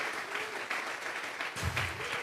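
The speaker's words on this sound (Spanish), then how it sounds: "Le vamos a regalar ofrenda de palmas al Dios de la gloria." A church congregation claps during a sermon, giving a steady, dense round of applause that swells slightly near the end.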